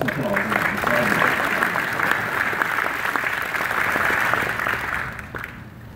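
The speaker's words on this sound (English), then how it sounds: "That's an applause." A large audience at a university presidential inauguration breaks into sustained, dense applause that holds steady for several seconds and then begins to taper off.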